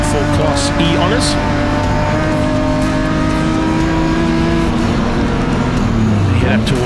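BMW M race cars scream around a circuit during a Class E battle, several engines howling and shifting pitch together as they pass, loud and continuous from start to finish.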